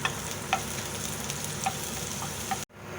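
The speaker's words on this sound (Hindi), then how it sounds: "टेबल स्पून से थोड़ा सा ज़्यादा तेल डाला है। अब इसमें लहसुन डालेंगे चॉप करे हुए।" Chopped garlic fries in a little more than a tablespoon of oil in a pan, giving a steady close sizzle with a few soft stirring clicks, then a sudden drop to near silence.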